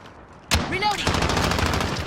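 Gunfire from an M14 rifle in a Call of Duty: Modern Warfare team deathmatch, a sudden loud crack followed by a rapid, continuous burst of close shots with a ringing tail, no talk.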